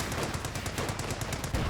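Rapid small arms fire from grenadier infantry in a Company of Heroes 2 battle, dense overlapping rifle and machine gun bursts crackling continuously at a steady rhythm, fairly loud and alone with no talking.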